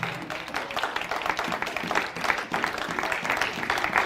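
Church congregation applauding in a steady, dense wash of clapping that fills the whole stretch, loud and close with no pauses.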